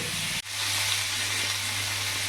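Pointed gourd (potol) slices frying in oil in a pan give a steady, close sizzle that carries through almost the whole clip, broken only by a brief dip near the start.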